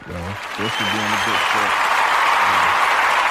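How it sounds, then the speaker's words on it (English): A round of applause from a podcast host, a steady broadband clapping wash that swells and holds loud after someone speaks a short line over its start. "I'll give you a round of applause real quick"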